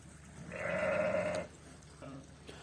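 Sheep penned for sale at a livestock market in Kara-Balta, among young ewe lambs: one loud, drawn-out bleat close by, followed by a fainter, shorter call.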